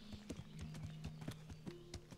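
Horse hooves clip-clop in Kingdom Come: Deliverance, a steady rhythmic walking beat of sharp knocks, quiet and close, over a low continuous hum.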